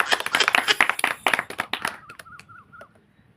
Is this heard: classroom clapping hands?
yes